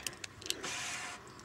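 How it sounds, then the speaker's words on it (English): A car's power aerial extends with a faint, steady electric motor whir lasting about half a second, preceded by a few soft clicks and taps inside the quiet cabin. "Oh, I better put my aerial up."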